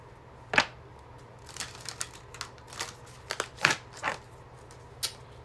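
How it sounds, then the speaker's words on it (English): Soft papery riffles and taps of cards being cut and shuffled, coming in short irregular bursts close by, with no talking. "Let me cut here and shuffle again."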